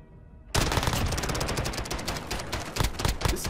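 Rapid automatic gunfire in Call of Duty Modern Warfare bursts in suddenly after a quiet half second, then continues as a loud, dense rattle of shots to the end.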